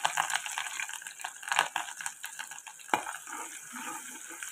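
Chopped ginger and garlic hit hot oil in a wok, giving a steady bright sizzle with occasional clinks and scrapes of a utensil against the pan, fairly quiet and with no talking.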